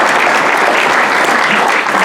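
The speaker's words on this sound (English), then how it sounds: "We clap each one of these guys." Loud, dense applause from a large audience at a Southern Textile Association annual meeting, recognising past presidents, sustained and even for the whole span.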